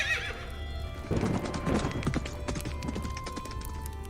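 A horse whinnies loudly at the start, followed by a series of hooves clip-clopping at a walking rhythm, fairly close by.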